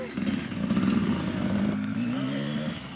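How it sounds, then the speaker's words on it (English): Kawasaki KDX dirt bike climbing up the Porcupine Rim Trail near Moab on a group ride, its two-stroke engine revving loud and close with a steady rising drone and brief throttle changes. "It's gonna ride the Lunchbox's KDX up"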